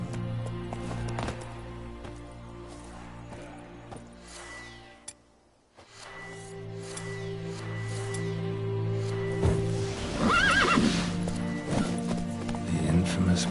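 Roach, the horse in The Witcher 3, gallops with rhythmic clip-clopping hooves and whinnies loudly near the end, over a game music bed.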